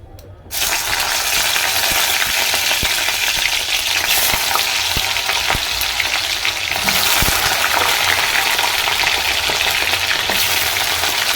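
Vegetables for chowmein frying in hot oil, a loud, steady crackling sizzle throughout with occasional sharp clicks of a utensil stirring the pan, no talking.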